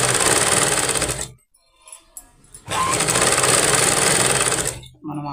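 A sewing machine stitches a blouse sleeve in loud, rapid mechanical bursts, running about a second and a half, pausing with small handling noises, then running again for two seconds before stopping.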